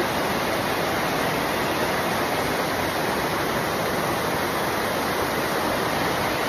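Flowing water at a scenic spot roars as a constant, loud rush of broadband noise, steady and unbroken like a waterfall or fast stream close by.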